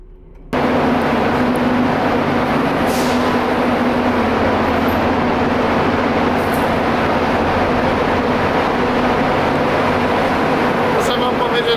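Loud, steady rumble of a train boarding a ferry, heavy rail machinery with a constant low hum, continuous throughout after a brief quiet start; no talking.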